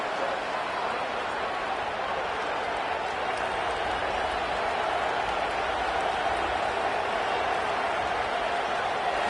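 Loud football stadium crowd roars in a broad, steady wash of noise after a false-start penalty, continuous and undiminished throughout, with an announcer faintly audible underneath.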